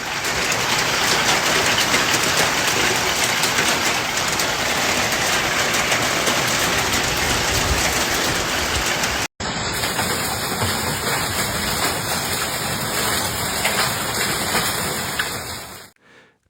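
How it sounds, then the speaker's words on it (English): Heavy rain and hail lash down during a storm in Eberndorf, Austria, a loud, dense roar of pelting that carries on unbroken, cuts briefly partway through, then resumes before fading out at the end. "Falling hailstones were seen bouncing off roads and yards."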